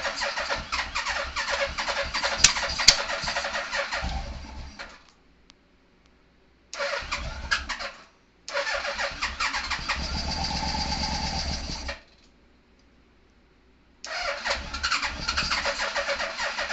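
A scrapyard vehicle engine cranking in several loud bursts separated by silent pauses, the starter grinding for a few seconds at a time without the engine catching, close and alone.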